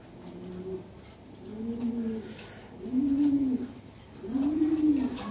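A Lahore pigeon coos close by in four rising-and-falling phrases, each a little louder than the last, with a faint background hiss.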